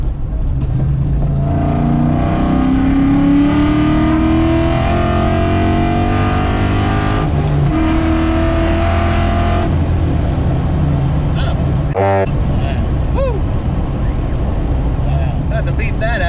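A car on drag tires accelerating hard, a loud engine roar climbing in pitch through the gears with a brief shift break, heard from inside with people talking over it.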